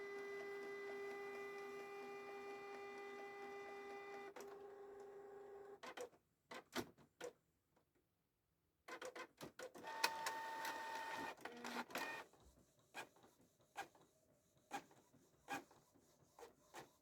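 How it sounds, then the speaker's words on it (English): A Canon printer prints a one-page document with a steady whirring mechanical run for several seconds, then stops, followed by intermittent clicks, feed clunks and short motor bursts, all faint and close by. "Now this document is printing."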